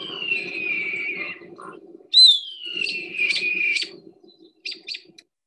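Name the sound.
mimicking bird imitating a hawk and a robin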